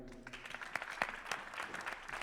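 Scattered clapping from a temple bhajan night audience, a burst of applause that stays fairly faint and uneven for a couple of seconds.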